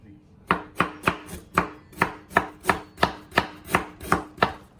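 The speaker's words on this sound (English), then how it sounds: "I'm going to make thin slices of the ginger." A knife cuts ginger into thin slices on a board, giving a quick, even series of about a dozen crisp, close chops at a regular rhythm.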